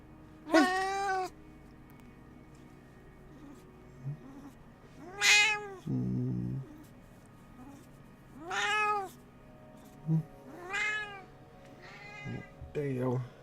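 A cat meows five times in clear, separate calls spread across the scene, each a rising and falling cry, with quieter background noise and brief thuds between them.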